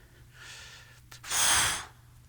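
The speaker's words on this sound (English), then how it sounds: "deep breath in." During a dumbbell shoulder and triceps workout, a person exhales, then draws one deep, loud breath in through the nose and mouth, close to the mic with no talking.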